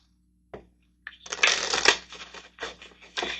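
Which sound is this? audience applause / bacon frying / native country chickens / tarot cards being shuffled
tarot cards being shuffled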